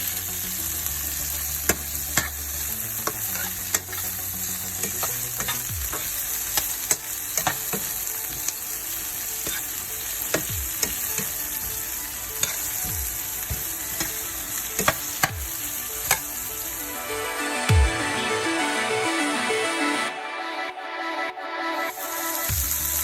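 Seasoning, sweet pepper and onions fry in a pan for corned beef, a continuous close sizzle broken by frequent scraping stirs and clinks, ending in a louder hiss, with no talking.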